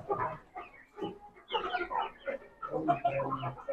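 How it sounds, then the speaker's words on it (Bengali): An Aseel hen clucking on an Aseel poultry farm, with a run of short, close, irregular clucks and bursts from the bird, fairly loud and broken by brief pauses; other fowl may be mixed in. "এই যে একটা মুরগি আছে"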